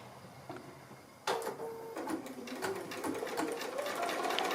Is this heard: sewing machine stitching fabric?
yes